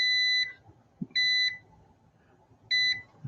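A continuity tester beeps on connected cable wires while an adaptor is being made for an electrosurgical unit analyzer. Three loud, steady electronic tones of about half a second each sound alone, with a little handling noise between them.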